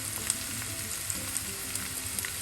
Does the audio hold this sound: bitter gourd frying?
yes